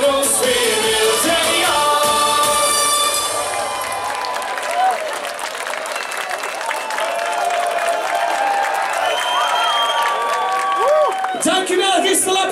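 A concert crowd at a show in Gistel applauds and cheers over loud, continuous live music, the clapping and whoops blending into a dense, steady roar that carries on throughout.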